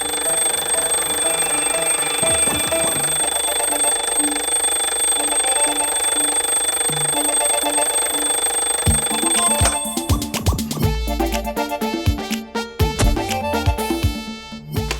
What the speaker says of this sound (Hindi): अब कौन सा अलार्म बज गया